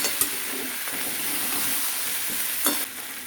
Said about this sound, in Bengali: এবার এটা ভালো করে কষে নিচ্ছি।